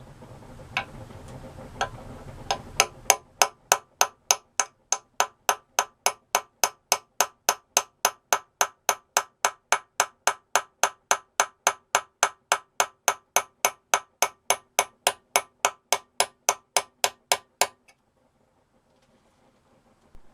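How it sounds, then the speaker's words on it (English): A small sharp chisel struck in a fast, perfectly even run of sharp metallic taps while carving runes into a hand-forged steel axe head, about forty crisp close blows before stopping, following a brief muffled rumble. "I used a small sharp chisel to carve them out."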